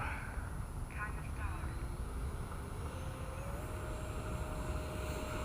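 An FMS 70mm F-18 RC jet takes off at full throttle, its electric ducted fan giving a steady, broad whoosh with a thin whine that climbs slowly in pitch, moderately distant, under wind noise and a voice speaking.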